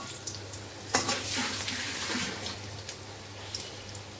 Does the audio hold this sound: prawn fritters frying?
yes